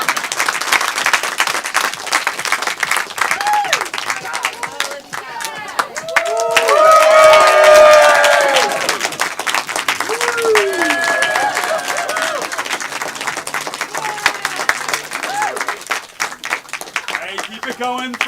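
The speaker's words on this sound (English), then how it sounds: "And one more round of applause for the Jugglemeisters." Audience applause at a comedy grad show, a sustained wash of clapping with some cheering that swells in the middle, while a host talks over it throughout.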